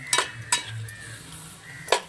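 Metal utensil scraping and clanking against a large pot of chicken curry on a wood-fired stove, a few sharp knocks spaced apart over a low simmering background.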